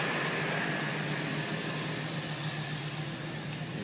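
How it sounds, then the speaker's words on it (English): A 350 truck engine with a MagnaFlow exhaust, a single straight 3-inch pipe, idles in a steady, even low rumble that holds constant throughout, with no voices. "There's a MagnaFlow exhaust setup with a one single straight 3-inch pipe. Growls and rumbles."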